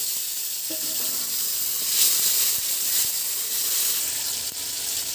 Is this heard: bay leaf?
yes